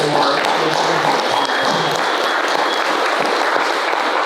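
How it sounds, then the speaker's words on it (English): A live audience gives a steady, dense round of applause at an event about building luxury homes for impact, the clapping loud and continuous with no voices on top. "let's give a round of applause for."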